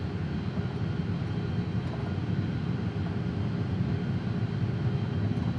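An Embraer E-195 airliner rolls for takeoff in the X-Plane 12 flight simulator, its jet engines giving a steady, loud, continuous roar with a low rumble throughout and no voice over it.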